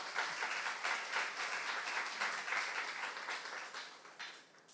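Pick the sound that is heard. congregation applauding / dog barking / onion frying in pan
congregation applauding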